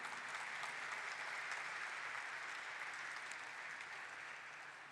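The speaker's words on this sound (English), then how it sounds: "please, with a warm round of applause, welcome our honorable host, Shri Ashish Kumar Chauhan" An audience at a stock exchange listing ceremony applauds to welcome the host, a dense, even wash of clapping that stays steady and fades slightly toward the end.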